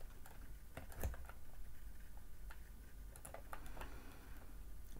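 Keys clicking on a computer keyboard while a scale is entered into building design software, with quick, irregular taps over a steady low hum, fairly close and not loud.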